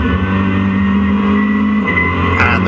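A BMW race car at Donington circuit: a loud, steady engine drone with a sustained tone that drops in pitch partway through as the car goes past, with no talk.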